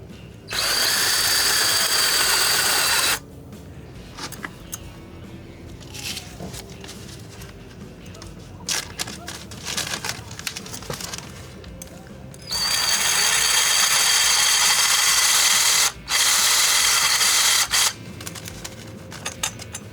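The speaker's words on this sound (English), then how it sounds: "I'll go ahead and drill the last hole" A power drill whines loudly in three bursts, about three seconds each, drilling a hole in adobe, separated by quieter stretches of scraping and handling noise.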